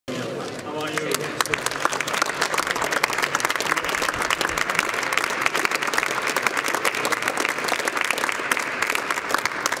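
A large audience of European heads of state gives sustained applause for Zelensky, dense rapid clapping that fills the room evenly from start to finish at a steady volume.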